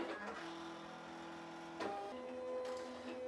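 A Silhouette cutting machine slices printed water bottle labels on a mat, its motor whirring in steady tonal runs with clicks and pitch shifts as the carriage changes direction, close and alone.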